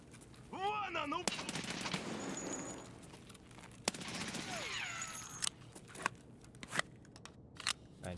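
Video game gunfire in a Punisher questline raid without the flea market: dense rapid shots in a burst, then scattered single cracks spaced apart, sharp and close, with a voice briefly in between.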